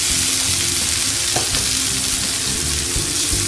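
Water poured into a pan of hot fish curry masala in a Bengali-style spicy fish curry sets off a loud, steady sizzle that holds evenly through the whole stretch, with a faint stir or knock partway through.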